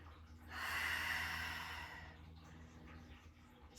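One long, deep breath is drawn in and then slowly released during a slow, mindful yoga side-body stretch. It is soft and close, with faint background hum.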